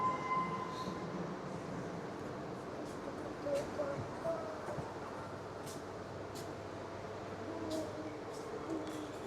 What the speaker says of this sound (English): You can probably hear the sounds of the trains, their operational layouts.